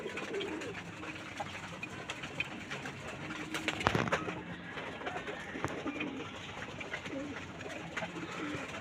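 Pigeons coo steadily on a rooftop where silkie hens are also kept, a soft continuous murmur of several birds near and far with a brief louder flutter partway through.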